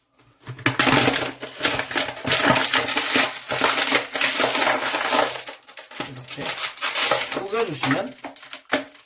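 An empty clear plastic PET bottle crushed by hand, giving loud, continuous crackling and crinkling over several seconds with a brief pause midway.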